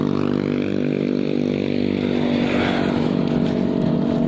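A Ninja motorcycle engine roars close and loud with a rough, steady buzz across the whole stretch, as if passing near on a street.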